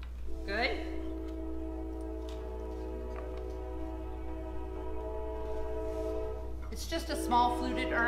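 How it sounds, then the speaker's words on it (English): A passing train sounds a long, steady horn over a low continuous rumble from start to finish, fairly distant and even in level, with a brief voice near the end. "Train's coming by, sorry."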